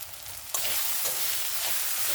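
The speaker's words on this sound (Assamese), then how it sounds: "আৰু এতিয়া নিমখ হালধিৰ সৈতে মই মছলাখিনি অলপ টাইম ফ্ৰাই কৰি লৈছোঁ।" Spices fry with salt and turmeric in a pan for a potato curry, a quiet hiss that jumps sharply louder about half a second in and then holds as a steady close sizzle.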